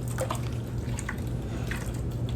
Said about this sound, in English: Washing and washing. Dipping and rinsing.